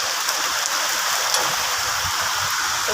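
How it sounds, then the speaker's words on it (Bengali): Heavy rain during a storm pours down steadily and loudly, a dense continuous hiss of drops hitting surfaces close by, with no voices. "এত ঝড় বৃষ্টি দেখো বন্ধুরা।"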